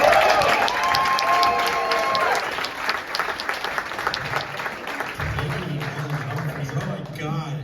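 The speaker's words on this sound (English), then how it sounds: "Please, big round of applause for Roland Penner." A comedy club audience gives a comedian a full, steady round of applause with scattered cheers, fading as a voice speaks near the end.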